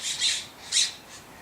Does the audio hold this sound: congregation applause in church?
no